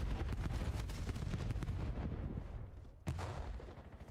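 Frag grenade explosions from Call of Duty, with dense rumbling blasts packed together and then a final sharp boom near the end, heard without any talk.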